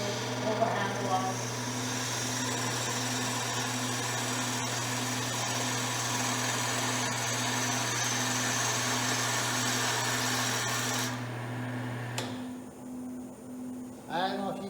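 A woodturning lathe runs steadily as a gouge cuts the spinning wood, a continuous droning whine with a low hum that stops near the end, leaving a brief quiet with a short scrape.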